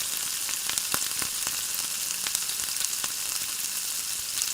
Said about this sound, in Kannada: ಸಾಸಿವೆ ಜೀರಿಗೆ ಮೆಣಸಿನ್ಕಾಯಿ ಬೆಳ್ಳುಳ್ಳಿ ಸ್ವಲ್ಪ ಹೊತ್ತು ಫ್ರೈ ಮಾಡ್ಕೊಂಡ್ಮೇಲೆ ಈರುಳ್ಳಿ ಹಾಕಬೇಕು